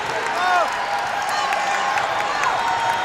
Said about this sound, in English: And now the crowd's gotten into it.